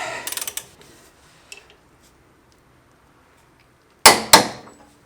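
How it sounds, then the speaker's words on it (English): A torque wrench tightening a front wheel bearing nut on a BMW during a big brake kit install: two sharp metallic clicks close together near the end, after some faint ticking earlier, with no talk. "Now that we have the torque wrench, we can also torque the front wheel bearing nut to the correct torque"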